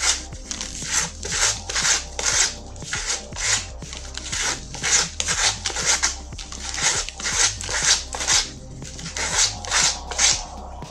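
Sandpaper rubs the cut edge of a cork piece on a DIY PVC pot, making steady back-and-forth scratching strokes at a regular rhythm. It is close and fairly loud, over a low background hum, with no talking.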